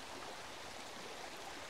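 Floodwater runs as a new stream through a hillside garden after a flash-flood landslide, a steady broadband rushing that is even and continuous, soft and somewhat distant, with no speech.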